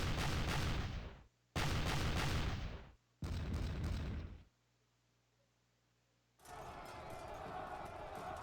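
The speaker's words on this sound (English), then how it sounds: "A lot of disruptions from matchlock fire." Matchlock gunfire in the video game Sengoku Jidai comes as three heavy, roaring volleys in quick succession, then a brief near-silence, then a long, sustained rumble of firing.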